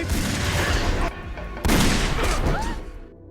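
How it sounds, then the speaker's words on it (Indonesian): Loud gunfire in an action film scene involving terrorists on a bridge, a dense burst of shots and crashing impacts over busy soundtrack noise, with a brief lull before another heavy volley. "Sialnya Jason Statham KW malah ditembak balik hingga membuatnya tewas seketika"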